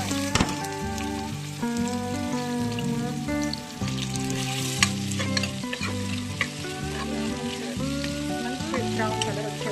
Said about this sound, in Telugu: కుక్కర్లో 1 టేబుల్ స్పూన్ నూనె పోసుకొని దాంట్లో కట్ చేసుకున్న ఉల్లిగడ్డ వేసుకోండి